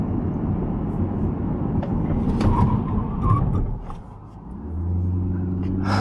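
A Chevrolet Corvette C8 Grand Sport brakes hard from around 45 mph. A rumbling rush of road and engine noise builds and then dips sharply, followed by a low steady engine hum as the car settles.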